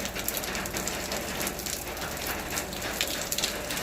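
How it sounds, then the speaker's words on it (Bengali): Steady, dense downpour of heavy rain pattering on surfaces, continuous and loud throughout with no voices. "বৃষ্টি হয়ে যাচ্ছে, এখনও বৃষ্টি ছুটবার নাম কথাই নেই, অনেক বৃষ্টি"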